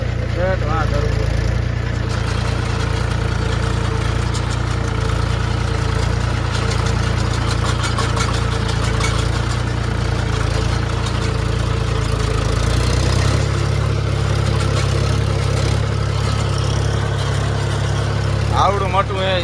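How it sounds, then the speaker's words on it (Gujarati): A tractor engine runs steadily near a dam, a low continuous idle-like drone that shifts in pitch partway through, with people talking throughout. "ઉપરથી એક ટ્રેક્ટર આવે છે"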